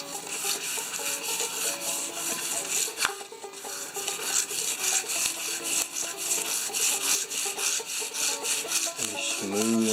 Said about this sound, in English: just taking this little piece of sandpaper, just rubbing it gently, very gently really